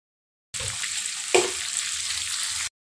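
Salted fish frying in a pan gives a steady, loud sizzle from start to finish, with a brief sharp spatter or clatter partway through and no talk.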